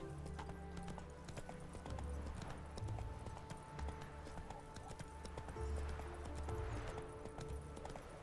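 A horse gallops in The Witcher 3 video game on PC, a fast, steady clip-clop of hooves close up with a faint whinny. The level is quiet throughout.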